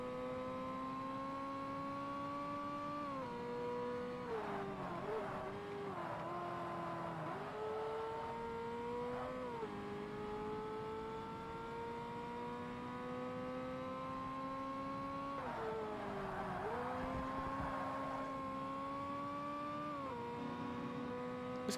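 Ferrari 360 Modena engine racing in Forza Motorsport, a steady high-pitched whine climbing through each gear with sharp drops at shifts around four and sixteen seconds, loud and continuous with no talk.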